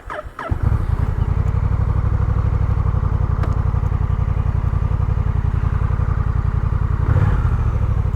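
Engine and exhaust of a 2023 Honda Rebel 1100 T motorcycle starting up and settling into a steady, loud, close-up idle rumble that holds for several seconds, with a brief throttle blip near the end.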